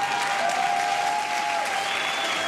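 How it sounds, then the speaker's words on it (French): Studio audience applause on a French talk show, loud and sustained clapping from a packed room filling the whole moment, with a faint held tone running beneath it. "Merci ma Marie, qu'on peut applaudir bien fort."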